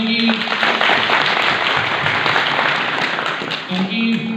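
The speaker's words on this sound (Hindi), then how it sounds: "और उनके लिए तालियां होनी चाहिए," Audience applause for the chief guest at an employability skills workshop at an ITI in Barkot, a steady, dense clapping from a crowd that carries through without pause.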